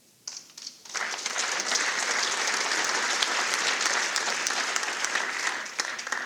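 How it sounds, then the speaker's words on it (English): Audience applause at a college athletics hall of fame ceremony in San Mateo, starting with a few claps and then swelling into sustained, dense clapping from a large room that tapers slightly at the end. "thanks for the applause"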